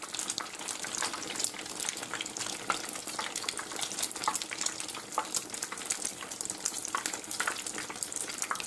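Torrijas, bread slices soaked in wine, frying in hot oil with a steady, close crackling sizzle and dense popping bubbles that run unbroken throughout, with no voices.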